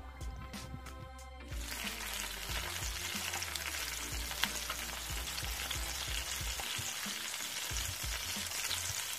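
Pike fillets frying in a pan give a steady, close sizzle and crackle for most of the clip, with a few low knocks from handling the pan and no talking.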